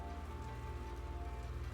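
Steady rain ambience in the video game Necrobarista, a dense even patter of drops on a surface with a low continuous rumble, constant and unbroken with no voices.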